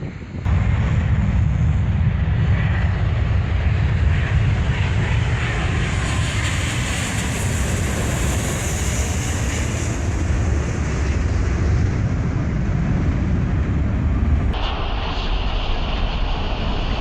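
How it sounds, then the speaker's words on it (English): Loud roar of a Delta Boeing 777 coming in to land at LAX, a sustained powerful jet engine rumble heard close by from the ground with wind buffeting the microphone throughout. "Did you hear those engines?"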